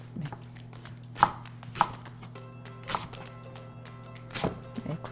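A knife slices green onion diagonally on a cutting board, several crisp separate chops spaced irregularly, close and fairly quiet over a faint background hum.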